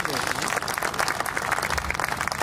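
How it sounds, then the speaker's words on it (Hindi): Applause from an audience at a fundraising program, a steady wash of clapping heard beneath a voice that keeps talking over it. "और आप सबकी जोरदार तालियां।"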